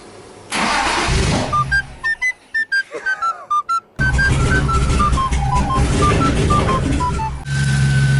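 A BMW E46 fitted with a new intake manifold and fresh tune cranks and fires up close by: a rough engine roar starts, then the revs rise and fall in repeated bursts with whistling tones before settling back to a steady loud idle.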